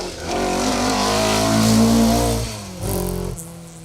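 A Ford Escort rally car on a 2WD stage of the Woodpecker Stages Rally, its engine droning loudly at steady revs for a couple of seconds, then easing off and briefly picking up again as it passes nearby.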